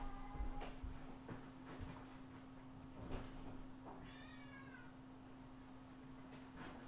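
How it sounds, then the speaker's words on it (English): A pet cat meows loudly in a kitchen during a roast beef dinner cook, several drawn-out wavering cries spread across the moment, close by over a steady background hum. "My cat's going wild."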